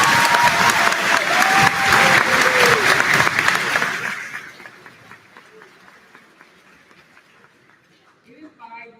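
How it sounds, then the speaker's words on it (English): Audience applauds the Class of 2025 graduates at an evening graduation ceremony, a loud, dense round of clapping for about four seconds that then fades to scattered claps and quiet. "can we give a round of applause for all the 2025 graduates"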